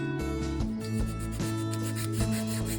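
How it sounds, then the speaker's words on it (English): Close, steady rubbing strokes of sanding resin 3D-printed model parts, a soft rhythmic rasp repeating back and forth with no voices. "I'm going to start by sanding down the surfaces where the most prominent print lines are"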